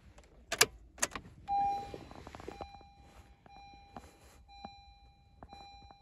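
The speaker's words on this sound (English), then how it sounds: "Turn ignition on." Ignition switched on in a 2021 Honda Civic with a blade key, giving a loud key jangle and click, then a steady dashboard tone followed by a series of short, evenly spaced electronic chimes in a quiet cabin.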